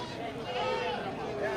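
Bleating from a male goat among livestock being shown for fattening and slaughter, a sustained wavering call heard close over background crowd chatter.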